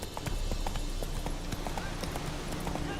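Roach the horse in Witcher 3: Wild Hunt trotting at an even pace, its hooves clopping in a regular, close rhythm over steady background game ambience and music, with no talking.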